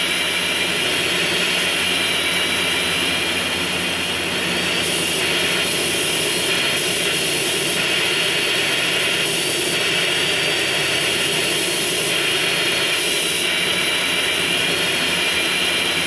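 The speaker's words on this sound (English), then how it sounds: "Not going for that freaking plane." Loud, steady roar of an airplane's jet engine in GTA San Andreas, a continuous droning whine that holds with little change and only slight swells throughout, with no talking.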